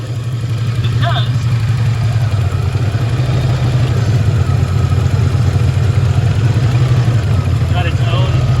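A 1979 Cadillac Seville engine idles with a steady low hum and faint clatter, close and continuous, while a person talks over it intermittently.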